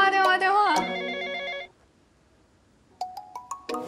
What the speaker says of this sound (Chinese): 电话来了。 电话电话电话。